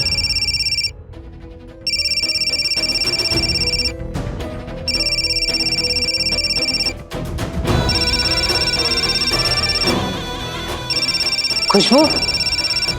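A phone ringtone in an Indian TV serial sounds loud and close in repeated electronic bursts, pausing briefly between cycles, while someone speaks over it and background music plays.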